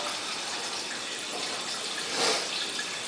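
Steady watery rushing and trickling from an aquarium filter running at low water level, with a soft gurgle swelling near the end, close and continuous, no voices.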